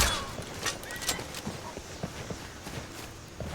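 Horse hooves clip-clop in a steady walking rhythm in Skyrim near Whiterun, moderately close, with scattered game noises and brief voice sounds mixed in.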